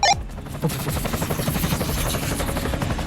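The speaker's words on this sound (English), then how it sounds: "Black helicopters tear above the boardwalk skyline of hotels and resort accommodations." Black helicopters tear overhead above a boardwalk skyline of hotels and resorts, their rotor noise a loud, continuous roar with a slight pulsing throughout.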